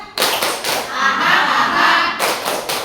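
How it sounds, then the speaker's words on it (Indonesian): A group at a school teacher training session performs a rhythmic spirit clap, a loud burst of patterned hand claps in unison near the microphone, briefly pausing before resuming. "Tepuk semangat siang."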